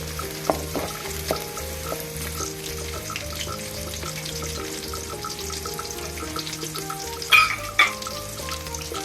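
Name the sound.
shallots and garlic sautéing in a pan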